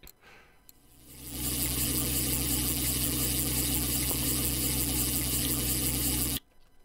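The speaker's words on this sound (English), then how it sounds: "I like the engine sound." Boat outboard engine in the Russian Fishing 4 game on the Ladoga Archipelago map, a few faint ticks before it revs up into a loud steady droning run for several seconds, then cuts off abruptly.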